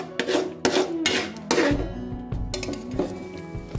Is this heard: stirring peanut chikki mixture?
yes